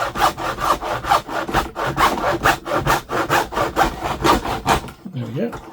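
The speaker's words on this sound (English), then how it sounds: "we use the hacksaw just to cut through the lid" A hacksaw cuts through a plastic trunking lid in quick, even back-and-forth strokes, close and rhythmic, stopping just before the end, with no talk.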